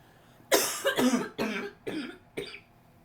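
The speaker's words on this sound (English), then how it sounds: "Stupid cough." A fit of five harsh, close coughs in a row, each burst separated by a brief pause.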